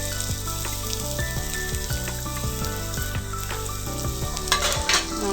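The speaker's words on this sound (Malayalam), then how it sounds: "നമുക്ക് അല്പം വെളിച്ചെണ്ണ ഒഴിച്ച് നമ്മുടെ തേങ്ങയൊന്ന് വറുത്തെടുക്കാം." Grated coconut fries in coconut oil in a hot pan, giving a dense, continuous sizzle with crackles and occasional scraping stirs, close and steady throughout.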